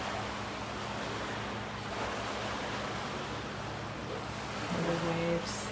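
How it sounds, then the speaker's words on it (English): Waves from a passing boat wash on a lake, a steady soft surf rushing close by, with brief tonal sounds near the end. "The waves from the earth, from the boat that just passed."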